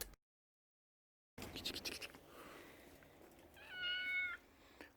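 A single drawn-out cat meow rises after a brief silence, close and fairly clear, with some scratchy rustling before it.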